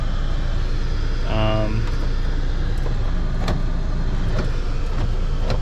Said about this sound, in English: Lock actuators are working all around